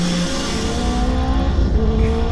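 A twin-turbo Mustang and a big-turbo Civic race on a Texas street, a loud engine roar sweeping up in pitch with layered harmonics, fading slightly as the cars pull away, with no speech.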